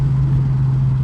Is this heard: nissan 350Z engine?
yes